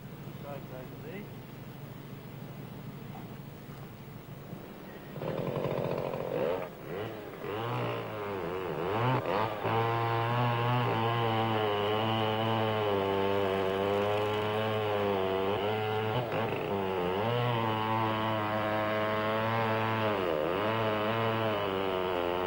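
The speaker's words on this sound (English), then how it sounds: "he cuts with a chainsaw." A chainsaw cutting timber in a logging town runs at a steady roar, rising sharply in pitch and loudness partway through as it bites into the wood, then holding a loud, buzzing drone to the end.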